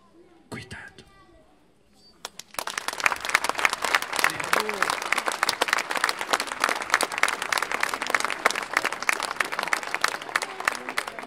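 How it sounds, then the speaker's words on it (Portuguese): Audience applause at a live comedy show swells after a brief quiet moment into sustained, dense clapping that fills the room, with faint murmuring from the crowd. "Nesta história os homens batem palmas, mas são mais contidos."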